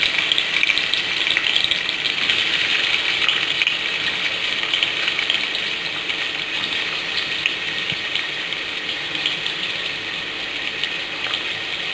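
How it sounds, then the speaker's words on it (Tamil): Two large chopped onions sauté in a pan for mushroom biryani, producing a continuous bright, hissing sizzle that stays loud and even throughout without speech. "வெங்காயம் வந்து நல்லா வதங்கணும்"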